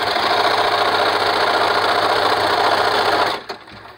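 A sewing machine stitching a folded fabric tie for a medical mask cover, a loud steady close whirring run of rapid needle strokes that stops abruptly near the end.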